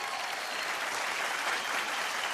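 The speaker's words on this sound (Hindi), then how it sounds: "मैं चाहूंगा कि इन सब लेजेंड्स के लिए एक बार जोरदार तालियां" Applause from an audience at a Punjabi song performance, a steady, even burst of crowd clapping lasting a couple of seconds.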